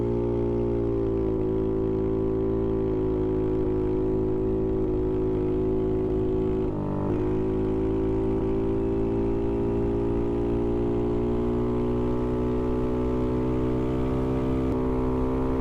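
A big bore Navi motorcycle on a test ride gives a steady engine drone with a low rumble and a constant mid-pitched tone, close and continuous throughout, with a brief dip in the middle.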